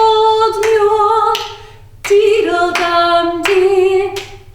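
A class of young children claps in time to a sung folk game, producing crisp, evenly spaced claps that ride along with the singing and music.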